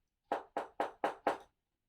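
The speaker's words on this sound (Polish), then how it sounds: "wilk zastukał do drzwi chaty" Five firm, evenly spaced knocks on a cottage door, close and clear, then silence.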